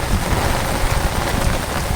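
Heavy rain pours down steadily at a fishing spot in windy weather, a dense, loud, continuous hiss and patter with no let-up.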